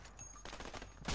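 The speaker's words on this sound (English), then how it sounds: "they're shooting up" Rapid gunfire in the video game A Way Out, a dense burst of quick overlapping shots over a continuous noisy game mix, brief and fairly quiet.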